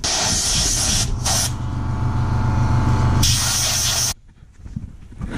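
Aerosol spray paint hissing onto fabricated metal harness mount parts for an R32 GTR, loud close bursts lasting about a second, then three seconds, with a short pause between, ending in near quiet.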